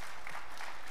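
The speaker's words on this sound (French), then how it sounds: "Okay, the clapping rolls back." Audience applause at a city urban planning committee meeting, a dense continuous wash of clapping heard for about a second, moderately loud and even.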